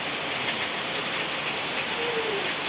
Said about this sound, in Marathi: सकाळी सकाळीच पाऊस येल्यामुळे